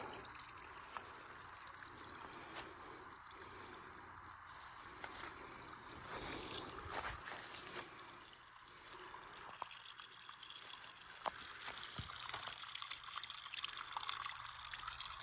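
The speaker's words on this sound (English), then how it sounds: "Nice little babbling brook." A small babbling brook fed by springs on a rural property, with steady trickling and dribbling water close by, continuous and fairly quiet with occasional drips.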